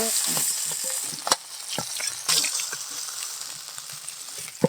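A catla fish head fries in hot oil in a village-style kitchen with a steady close sizzle, punctuated by a few sharp clinks and pops as it is turned.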